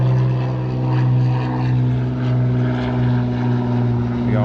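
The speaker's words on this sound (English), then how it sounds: "The old plane above." An old propeller plane drones steadily overhead above a river, a loud continuous engine hum with a strong low tone that swells slightly, while someone talks over it.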